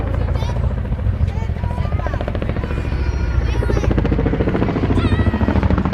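Heavy rotor thump and turbine roar from a Chinook twin-rotor helicopter flying at an armed forces day air display, loud and continuous throughout with a rhythmic beating pulse, with some broadband wind rush.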